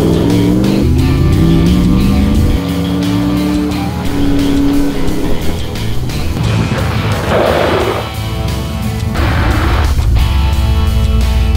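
A 4WD's engine revs loudly and climbs to about 60 km/h, then tyres squeal and skid sharply as it brakes hard on upgraded brakes, the screech drawn out over several seconds.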